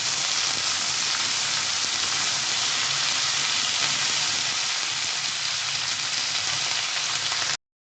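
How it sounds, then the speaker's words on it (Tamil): Green chili and tamarind sautéing in a pan for pirandai thovaiyal produce an even, hissing sizzle like light rain that continues unbroken until it stops abruptly near the end, with no voices present. "ஒரு பச்சை மிளகாய், புளி சேர்த்துட்டு நல்லா வதக்கிடலாம்."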